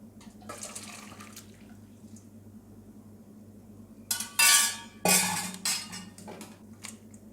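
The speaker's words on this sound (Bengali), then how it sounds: "এবার মোচাটাকে আমি ছেঁকে নেব।" Boiled banana blossom is tipped into a strainer, producing a few loud splashing bursts of draining water and clattering utensils over a quiet kitchen hum.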